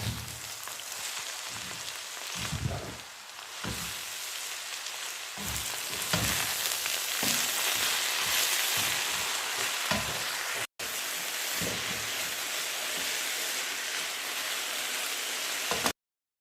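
Chopped cabbage with onion and garlic fries in a pan, giving a loud, close, steady sizzle and hiss with bursts of stirring, then a brief drop to silence before the sizzling resumes.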